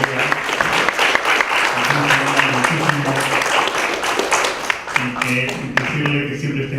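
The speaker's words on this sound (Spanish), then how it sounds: "Quiero pedir otro aplauso para nuestro profesor" Loud, sustained audience applause for a professor at a Spanish-language journalism lecture, dense clapping throughout with a voice speaking over it.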